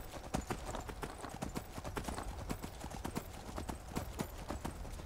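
A horse gallops in Skyrim, a rapid continuous clip-clop of hooves in a driving rhythm, close and steady throughout, with no talking.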